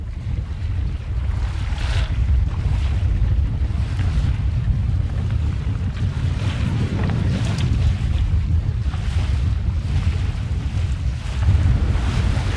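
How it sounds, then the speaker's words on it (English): Small waves slap and wash against a boat heading into shore off Fraser Island between Wathumba and Urangan, with steady wind buffeting the microphone throughout; a continuous, fairly loud watery rush with no talking. "So the waves are pretty small in here now"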